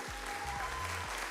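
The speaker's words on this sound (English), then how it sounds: "Can I get an applause?" Faint studio-audience applause during a live talk show, a soft continuous patter of clapping beneath gliding low tones.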